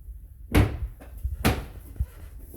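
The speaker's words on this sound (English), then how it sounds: "The other thing, you take these doors off." A kitchen cabinet door is unclipped from a Blum clip top hinge, two sharp close knocks of wood and metal about a second apart, followed by softer handling clunks.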